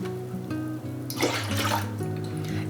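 Apple cider pours into a brine in a home kitchen, with a splashing, gurgling liquid stream swelling in the middle and tapering off over a soft, steady tonal background.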